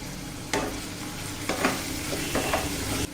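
Tapioca fries in a pan as a spoon stirs it, steady sizzling broken by several distinct scraping strokes against the pan, close and clear, no voices.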